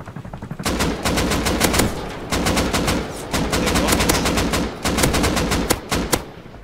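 Sustained bursts of automatic AK assault rifle fire in the Rust survival video game during a fight with an APC Bradley and chopper, rapid loud cracks in several long strings with brief pauses, no talk over them.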